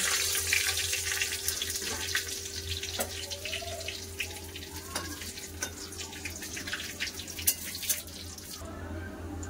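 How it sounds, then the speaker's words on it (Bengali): Whole cumin, garam masala and bay leaf crackle in hot mustard oil in a kadai, giving a steady, close, broadband sizzle with scattered small pops throughout and no talking. "এখানে আমি নিয়েছি জিরা, গোটা গরম মশলা, তেজপাতা ফোড়নের জন্য। দিয়ে দিলাম কড়াতে।"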